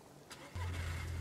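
A car engine in the DayZ video game cranks and catches at the start of a race, then settles into a loud, steady low rumble that holds to the end, with a brief quieter click and rustle just before it.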